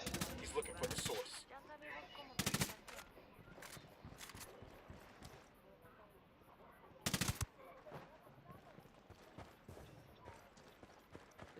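Submachine gun fire in the Ghost Recon Wildlands video game: a few short, loud bursts of automatic fire stand out over a quieter ambient background, with no talking.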